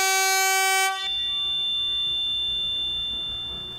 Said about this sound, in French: L'espèce de gros klaxon qu'on va entendre dans quelques secondes